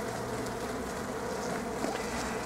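Honeybees buzzing at the hive, a dense, continuous drone of many wings, close and steady throughout.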